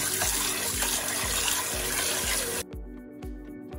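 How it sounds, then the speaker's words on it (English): Tap water gushes steadily into an Instant Pot over basmati rice, a broad rushing stream that cuts off abruptly near the end, leaving quieter drips and small splashes. "I'm gonna fill this up with water"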